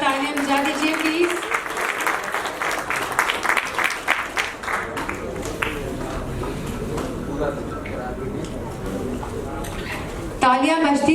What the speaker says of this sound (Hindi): इनके लिए भी जोरदार तालियां बजा दीजिए प्लीज.